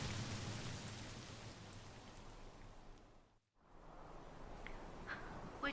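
Steady rain pours down outdoors in a continuous wash of noise, briefly dropping away for a moment before resuming at the same level, with no voices.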